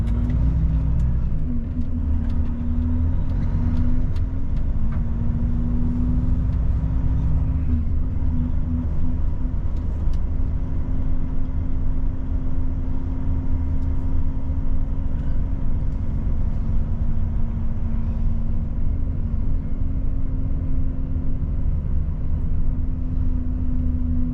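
Steady low engine rumble of a truck cruising south on a highway among car traffic, a continuous close drone with a sustained hum and road noise throughout, no talking.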